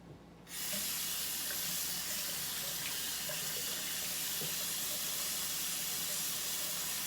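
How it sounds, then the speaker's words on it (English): Warm water from a tap running steadily through a trumpet mouthpiece, a bright, even hiss of flow that starts abruptly and continues unbroken for several seconds, close and alone. "You're going to run warm water through it."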